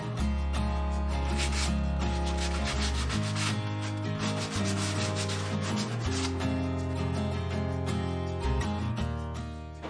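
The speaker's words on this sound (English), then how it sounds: "So I'm only distressing the wood, the painted part." Painted wood on an antique French buffet being lightly distressed by hand, giving a steady continuous rubbing and sanding scrape that stays loud and close for the whole stretch, alone with no talk.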